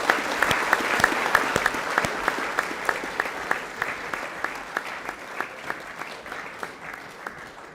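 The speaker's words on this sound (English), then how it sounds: "Round of applause for our netballers." A school co-curricular prize giving audience applauds loudly, a sustained crowd clapping with sharp individual claps standing out, fading gradually over several seconds.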